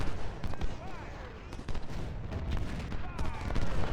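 Sniper gunfire in a Civil War strategy game at Chickamauga, with repeated sharp rifle cracks scattered irregularly over a rumbling battlefield backdrop, some shots close and loud, others distant.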